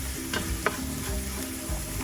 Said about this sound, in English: So just a quick saute so it doesn't burn